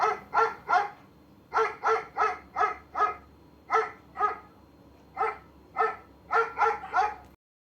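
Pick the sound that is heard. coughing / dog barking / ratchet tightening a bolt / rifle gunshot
dog barking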